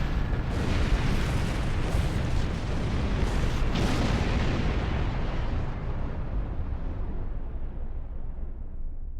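Explosions during a ship attack in Star Trek Online: a dense, continuous roaring blast that holds loud for several seconds before slowly fading, with no talk.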